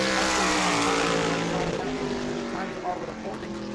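Race car number 11 runs a qualifying lap at New Smyrna Speedway, a broad engine roar heard steadily under an announcer's commentary, fading slightly as it moves away.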